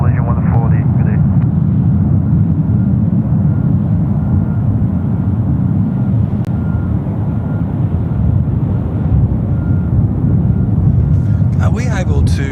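A Malaysia Airlines jet passes by at night at Sydney Airport as a loud, steady low roar that holds for the whole stretch. Voices talk over it near the end.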